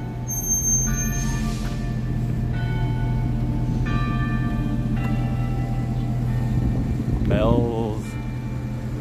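Church bells ring out in St. Paul, Minnesota, a few spaced tolls sounding over a steady hum of traffic and street noise while walking around outdoors, with a brief rising tone near the end.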